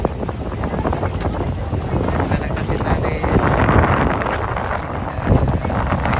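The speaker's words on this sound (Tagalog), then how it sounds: "What a lovely wind guys." Strong wind buffets the microphone on a Boracay beach at sunset, a rough gusty roar with a boat's hum underneath, while someone speaks briefly over it.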